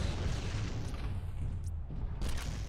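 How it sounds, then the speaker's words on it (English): Missiles launch and explode in the mech combat game MechWarrior Living Legends, heard as a dense roaring rumble with deep booms and crackling blasts throughout a short, loud stretch. "Missiles away."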